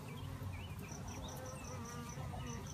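Honey bees buzz around an open hive in a dense, steady, faint hum, with occasional higher whines as individual bees pass close by.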